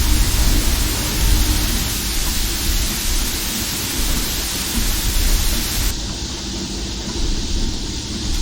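Safety valve popping off on a steam locomotive in Disneyland Railroad Simulator, a loud, steady, roaring hiss of escaping steam that fills the clip and loses its sharpest edge partway through, with no talking.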